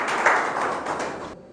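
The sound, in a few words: audience applause welcoming a former MLA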